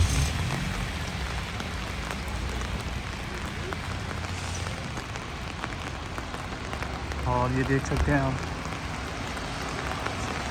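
Heavy rain pours steadily onto an illuminated East Hastings street at night, a dense, loud hiss throughout, while someone talks briefly near the end.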